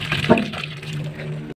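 Water draining off blanched okra (bendi) in a kitchen, a short burst of splashing and trickling liquid that fades out after about a second and a half.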